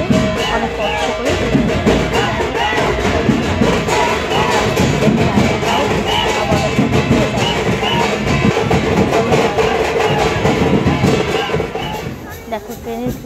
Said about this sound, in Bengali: দেখো ট্রেনের ভিড়টা শুধু দেখো